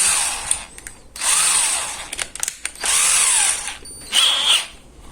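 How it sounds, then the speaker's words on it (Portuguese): A small household cordless drill drilling a hole, with several bursts of whining motor and bit noise separated by brief pauses, loud and close. "Para furar, a gente vai utilizar essa pequena parafusadeira."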